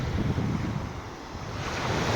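Calm sea waves washing onto a beach in Marbella, Spain, a continuous soft roar of surf with light wind noise on the microphone, close and steady throughout.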